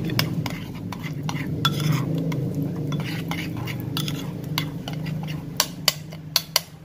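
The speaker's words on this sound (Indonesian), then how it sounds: "Ya, seperti ini kita aduk." A spatula stirs Mongolian-sauce noodles in a pan, with steady scraping and clinking strokes close up, ending in a few sharp metallic taps on the pan rim.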